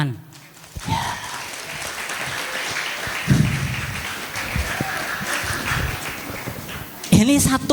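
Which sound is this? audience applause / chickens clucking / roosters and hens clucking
audience applause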